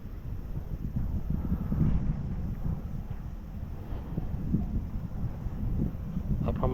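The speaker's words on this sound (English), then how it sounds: "The wind's picking up a bit. I've got to work out a way to get my mic protected from the wind." Wind buffets a microphone outdoors at Waikumete Cemetery, a steady low rumbling roar that continues without pause for the whole stretch.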